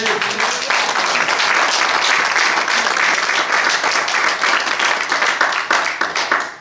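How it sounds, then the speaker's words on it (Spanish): Loud, sustained applause from a large church congregation, steady and dense throughout with no talking over it. "Denle un aplauso al Dios, Señor."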